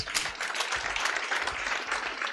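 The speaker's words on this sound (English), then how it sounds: "He deserves a bigger hand clap than that" A crowd applauds at a fireside conversation event, giving a dense, even wash of clapping with no talk over it.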